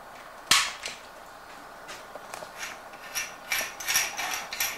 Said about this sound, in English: Oh, that's a cap pistol.